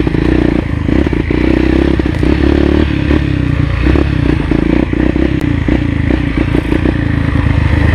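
A dirt bike engine drones loudly and continuously on a rough trail, the rider's machine rattling and clattering over bumps and holes, close and steady without pause.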